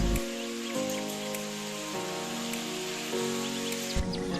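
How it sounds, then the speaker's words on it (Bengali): Pieces of fish frying in hot oil for a mango-katla fish dish, a steady sizzle and crackle running throughout with a few sharp pops, over a low droning tone that shifts in steps. "বাদ বাকি মাছের পিসগুলোকেও একইভাবে ভেজে নেব"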